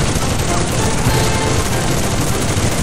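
An MG 34 machine gun with a drum magazine firing in the video game Enlisted, a dense, continuous loud rattle of gunfire with battlefield noise layered throughout.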